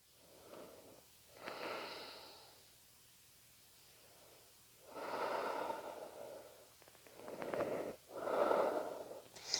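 Slow, deep breaths during a gentle yoga flow, with long, soft, airy inhales and exhales rising and falling close to the microphone in a quiet room.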